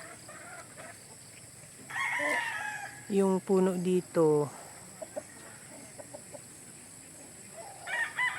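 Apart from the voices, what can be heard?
chickens clucking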